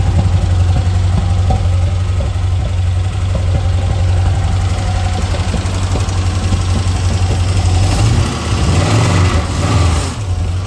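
A carbureted LS V8 engine idles loudly and steadily in a 1971 El Camino with a T56 swap. The close, rumbling idle holds an even rhythm and wavers slightly near the end.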